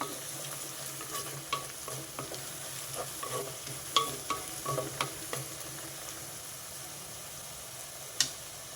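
Turmeric fries in oil in a pan for a cauliflower and green peas masala curry, a soft sizzling hiss broken by scattered scraping clicks of a spoon stirring, close and fairly quiet with no talking.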